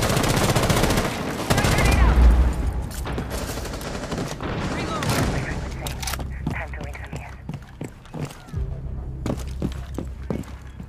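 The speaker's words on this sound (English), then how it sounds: "Flashbang!" Gunfire erupts in Rainbow Six Siege, with dense rapid bursts and a loud flashbang grenade blast early on, then scattered shots continuing under voices talking over game chatter.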